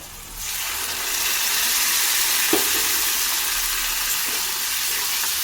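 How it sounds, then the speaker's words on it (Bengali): Spice paste with tomato hits a hot pan and sizzles steadily, a close, continuous frying hiss with a brief clatter partway through, while a lentil and fish head dish is cooked. "এই মশলাটা আমি পেস্ট করে নিয়েছিলাম এটা আমি ঢেলে দেব"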